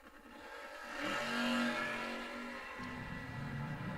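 A Camaro drag race car at the start line of a drag racing event, its engine revving loudly and steadily in a sustained, rising roar with no pause, heard up close over a low mechanical rumble.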